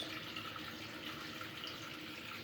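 Water rushes steadily out of a radiator being flushed clean in a home heating system, a continuous hissing, splashing flow close by with no pauses.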